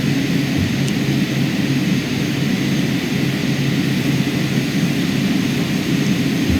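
Twin turboprop engines of a Carenado King Air B200 in MSFS 2020 after an over-torque, a steady, loud, full drone holding evenly throughout with no talk.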